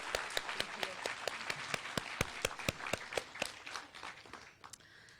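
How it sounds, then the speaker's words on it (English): A short burst of applause from an audience at a community college adult education awards ceremony, sharp individual claps standing out, fading away toward the end. "let's give one last round of applause for all of them"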